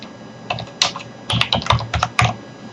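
Typing on a computer keyboard: a few short bursts of crisp key clicks in an irregular rhythm, close and fairly loud in a quiet room.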